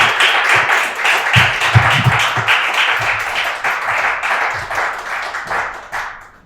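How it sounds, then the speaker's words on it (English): An audience at a poetry reading claps for two poets in a dense, even round that stays close and loud, then tapers slightly toward the end. "Let's give another round of applause for our two poets."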